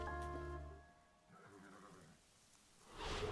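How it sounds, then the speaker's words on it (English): A horse in a video game lets out a whinny, a sharp tonal neigh that falls off after about a second, followed by softer snorting and a brief rustle at the end. "See, horse there! Look! Horses!"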